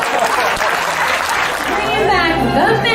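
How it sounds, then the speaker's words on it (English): An audience bursts into applause for a mentalist's act, a dense wash of clapping with some voices and chatter mixed in. "Give us some applause."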